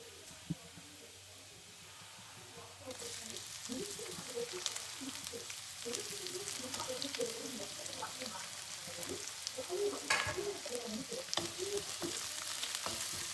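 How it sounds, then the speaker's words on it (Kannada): Onions hitting hot oil in a pan for paneer fried rice, a quiet hiss that jumps into a brighter, steady sizzle after a few seconds, with soft stirring scrapes underneath and a faint voice early on. "ಈಗ ನಾನು ಇದಕ್ಕೆ ಆನಿಯನ್ ಹಾಕೊಳ್ತೀನಿ"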